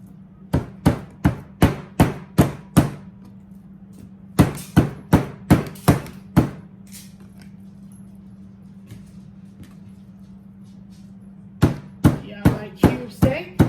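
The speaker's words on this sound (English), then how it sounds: "I am going to take my little mallet and" A small meat mallet pounds cube steak in a bowl in two bursts of rapid, evenly spaced thuds, about eight blows each, then a pause before another quick run, with a steady low hum underneath.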